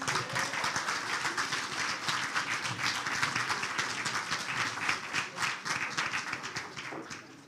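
Audience clapping at a Liberia diaspora conference, a dense, steady round of applause from many hands that holds evenly and tapers off near the end.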